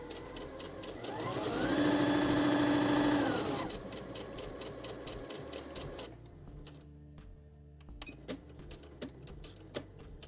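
A Juki HZL-70HW-B domestic sewing machine runs a zigzag stitch in a steady, buzzing mechanical whir that rises for a couple of seconds and then eases off, followed by scattered light clicks and taps.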